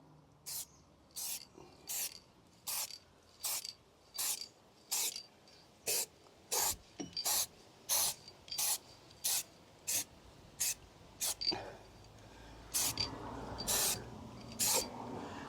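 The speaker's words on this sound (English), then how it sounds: "Just putting a mist of satin black on top of the zinc primer." A spray can mists satin black paint over zinc primer on a VW T5 sliding door part, a series of about fifteen short hissing bursts in a regular rhythm, close and fairly quiet, with the last few bursts longer.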